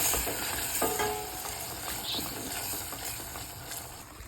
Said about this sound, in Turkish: Salçayla güzelce kavurayım.